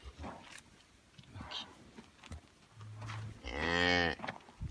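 Cows moo during evening milking on a farm where about twenty are milked; one loud, drawn-out moo rises near the end, following fainter lowing and scattered background noises earlier.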